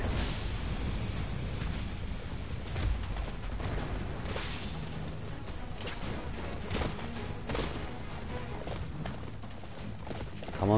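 Rhythmic hoofbeats of a galloping horse in Attack on Titan: Wings of Freedom, with game-style effects and dense background sound, steady and loud throughout, ending in a brief louder burst.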